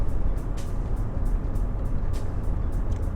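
A car drives along a road, a steady low engine and tyre rumble heard from inside the cabin with faint intermittent ticks and rattles.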